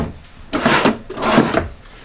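Drawers beneath the counter in a 2021 Keystone Residence 40MBNK RV slide open and shut, two close, loud sliding runs with soft thumps.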